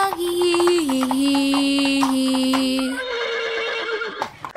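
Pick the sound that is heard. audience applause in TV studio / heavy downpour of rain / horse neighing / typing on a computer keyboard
horse neighing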